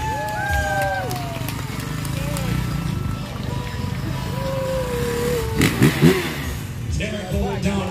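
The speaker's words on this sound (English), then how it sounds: "Derek holding down on that brand new Honda 450" Brand new Honda 450 motorcycle at a state fair stunt show, engine revving in rising and falling whines at a distance beneath a loud announcer and crowd noise.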